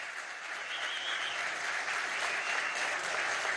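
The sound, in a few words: audience applause for Father Oscar Freite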